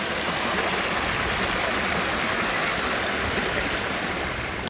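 Water from a fountain rolls steadily down a water garden creek in Kings Park, Perth, a constant close rushing and gurgling flow with no voices over it.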